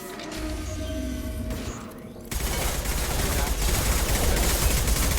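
Gunfire in Mass Effect 2: after a stretch of humming ambience and a quieter dip, a dense, continuous burst of rapid shots erupts and keeps going loud and harsh to the end.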